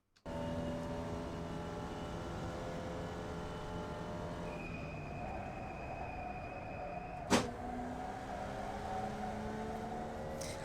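Formula Vee race car engine in the iRacing sim at Tsukuba, a steady droning engine tone held through a gear change and revved out, with a sharp brief click partway through, fairly faint and continuous without talk.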